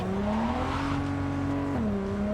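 A car engine hums at steady revs while driving in the futuristic video game Cyberpunk 2077, its pitch holding level before dropping briefly as it shifts. Loud and continuous, with no voices.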